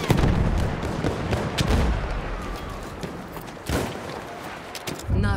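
Battlefield 1 combat with a grenade blast amid dense battlefield noise: rolling booms and crackling gunfire, with a sharp loud burst near the start and another near the end, over a constant roar.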